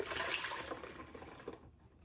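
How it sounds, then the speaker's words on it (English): Green juice is poured through a small juice strainer into a container, giving a continuous close liquid pour and splash that tapers off into quiet near the end. "pour that right through the strainer and repeat the process"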